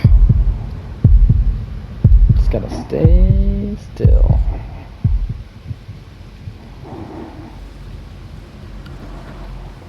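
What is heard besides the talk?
heartbeat sound in the video game Little Nightmares 2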